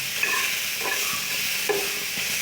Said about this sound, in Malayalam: തക്കാളി, ഇഞ്ചി, പച്ചമുളകും വെളുത്തുള്ളി നന്നായി ഒന്ന് വഴറ്റുക.